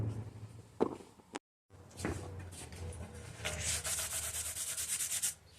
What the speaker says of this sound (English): we're just getting a good scuff on it with some sandpaper and some sanding blocks